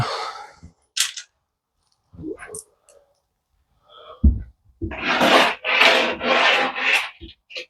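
A hand rubs and scrapes along a plasterboard ceiling while feeling for screws, giving a dry rasping rub in several bursts, with a longer run of steady scraping strokes toward the end and a few short isolated scuffs before it.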